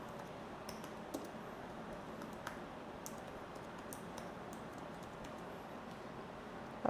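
Text being typed on a computer keyboard with light, irregular clicking keystrokes, fairly faint over a steady background hiss.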